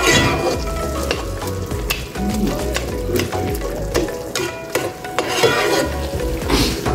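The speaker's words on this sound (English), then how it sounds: "You just like help to break it down a little more with the back of the spoon." Spoon pressing and stirring tomatoes in a hot frying pot for talkari, a steady sizzle with scraping and light clinks of utensil against the pot, close and continuous.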